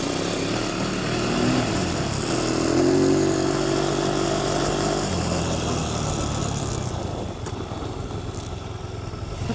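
A small Piranha 140 pit bike engine runs steadily throughout, revving up and holding a loud, buzzing drone while riding over icy snow outdoors, then easing slightly toward the end.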